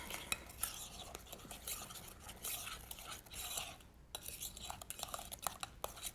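Ingredients being mixed in a bowl with a utensil, giving a steady run of quiet scraping and clinking strokes close by, with no talking.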